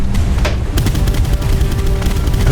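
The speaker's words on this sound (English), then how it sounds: "The 30 cals will open up." Thirty-caliber machine guns aboard a PT boat in a naval combat game hammer out rapid, loud bursts of fire over a constant engine drone, the shots closely spaced and sustained across the whole stretch.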